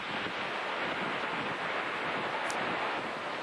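Steady, loud roar of hurricane wind and churning storm-surge waves fills the whole stretch, a constant wash of noise with no pauses.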